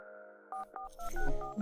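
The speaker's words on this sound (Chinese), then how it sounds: "我先打个电话。" Telephone dialing a call: a few short electronic tones and beeps, close and moderately quiet, followed by faint handling noise, with no talk.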